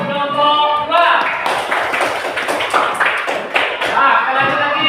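A group of students clapping their hands in a classroom, a dense patter of claps running for several seconds at close range, with children's voices mixed in at the start and end.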